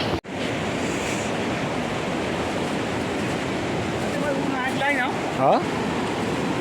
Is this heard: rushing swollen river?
yes